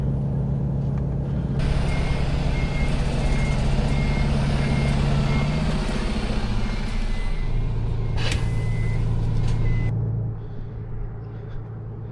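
A Volvo truck reverses with a steady, loud diesel engine drone and a regular series of high warning beeps. Near the end there is a short hiss like an air brake, and the engine settles lower. No one speaks.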